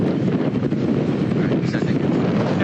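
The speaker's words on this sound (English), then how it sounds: "It is windy and rainy here" Rough, continuous wind buffeting the microphone outdoors in rain in Madison on election night, a dense rumbling roar with no clear breaks.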